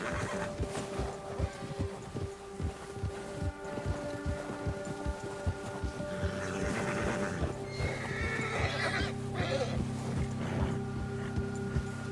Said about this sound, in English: Get that horse in line, Arthur.